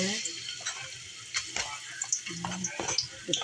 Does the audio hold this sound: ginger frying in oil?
yes